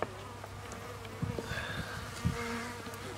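Honey bees hum steadily and calmly on overwintered hive combs, a close, continuous low drone with a few louder swells as individual bees pass near.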